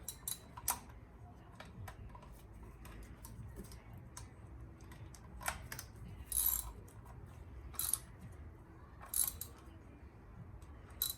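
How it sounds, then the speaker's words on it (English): A ratchet tightens carburetor intake bolts on a seized motor, giving quiet clicking bursts and a few brief louder metallic ticks spread across the stretch; close but faint, with no talking. "tighten these carburetors down"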